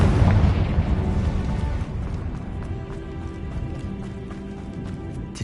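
A blasting curse explodes in the video game Hogwarts Legacy, a deep rumbling boom at the start that rolls off into lingering low debris rumble and scattered crackles.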